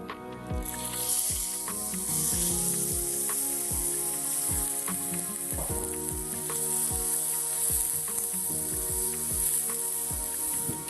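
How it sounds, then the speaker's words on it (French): Minced meat and onions sizzle loudly in oil in a pan, a bright continuous hiss overlaid with repeated scraping and knocking of a utensil stirring at an irregular rhythm. "pour faire revenir notre viande hachée avec l'oignon"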